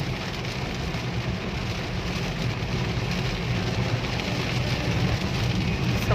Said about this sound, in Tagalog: Sobrang lakas ng ulan mga katakongs